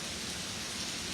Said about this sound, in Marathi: मुंबईमध्ये रात्रीपासून मुसळधार पावसाला सुरुवात झालेली आहे आणि आता देखील पावसाचा जोर आहे